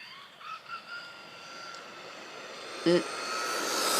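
An RC car with a Castle Sidewinder 3 brushless motor drives along a residential street, its faint electric whine wavering at a distance. A single thump is followed by the whine and road noise swelling as the car approaches.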